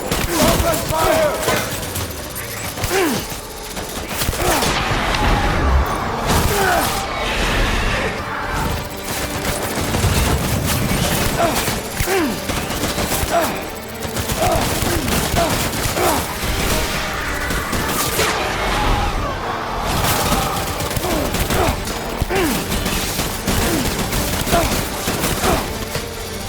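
Sustained gunfire in the video game Death Stranding, bursts of shots rattling across the scene over a dense, continuous bed of combat noise, loud and close throughout.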